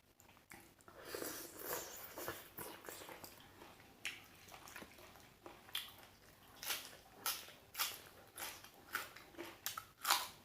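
A person eats spicy pounded papaya salad with rice noodles, chewing and biting with wet, crunchy, squishy mouth sounds up close in irregular bursts, growing louder toward the end.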